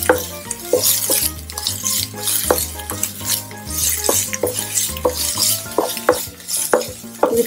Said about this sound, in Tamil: இது கொஞ்சம் நல்லா வதக்கி விடுங்க.